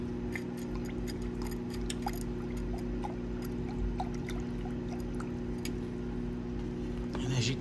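Electrolyte pours steadily into a silver crystal growth cell, a soft continuous liquid trickle over a constant low hum, with faint clicks and handling noises scattered throughout.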